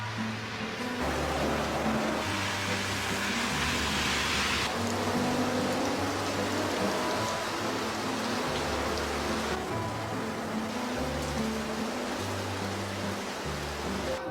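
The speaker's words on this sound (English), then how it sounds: "because the rain has still not stopped" Steady heavy rain pouring down, a continuous hiss of drops on surfaces, with a low rhythmic hum running underneath throughout.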